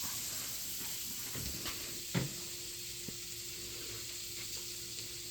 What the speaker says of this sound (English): I'm going to let this saute down here, kind of melt down a little bit